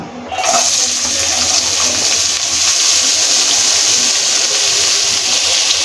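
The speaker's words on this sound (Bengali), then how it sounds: "এর তেলের ভিতরে আমরা একটু তেল দিয়ে দিচ্ছি এখন পেঁয়াজ কুচি দিয়ে দেবো" Chopped onion fries in hot oil in a pan after fish has been lifted out, a loud continuous hissing sizzle that starts abruptly and holds steady to the end.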